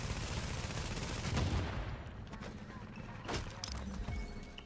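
A few sharp gunshots crack over a steady rumbling background during a Division Dark Zone firefight. The shots are fairly distant and fairly faint.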